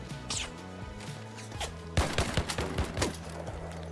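Gunfire in the video game Arc Raiders: a burst of sharp, closely spaced shots cracks out in the second half, over a steady background game score and with no talk.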